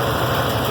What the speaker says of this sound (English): A little bit of valve train noise